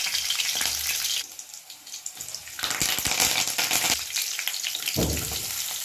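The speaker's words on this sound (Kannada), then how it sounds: "ಎಣ್ಣೆ ಕಾದ್ಮೇಲೆ ಸ್ವಲ್ಪ ಹಸಿಮೆಣಸಿನಕಾಯಿ ಹಾಕ್ಕೊಂಡು" Green chillies and cumin sizzle in hot oil in a kadai, a steady close frying hiss with brief louder bursts and a few scraping stirs, no voices.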